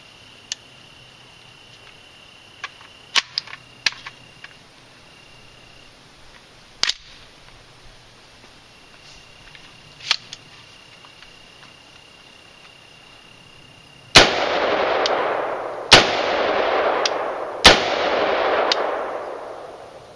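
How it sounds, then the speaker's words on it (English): A fully automatic assault weapon fires after a quiet stretch of faint clicks and handling noises: three loud, close blasts, each followed by a long echoing tail. "I'll demonstrate what a real assault weapon looks like."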